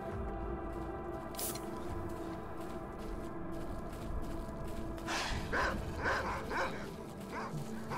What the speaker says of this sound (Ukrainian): Знову ці собаки.